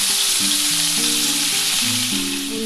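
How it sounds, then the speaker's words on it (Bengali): Parshe fish pieces half-fry in hot oil in a wok, giving a loud, continuous crackling sizzle with low tonal notes in the background and no speech. "এবার আমি একটা একটা করে মাছ ছেড়ে দিলাম।"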